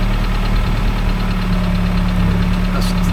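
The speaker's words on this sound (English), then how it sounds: "leave it ticking over like 10 minutes and then give it a rev" A Vauxhall Astra GTE 16V engine ticks over at idle, a loud, steady close-up rumble with even low thrum and faint mechanical ticking throughout.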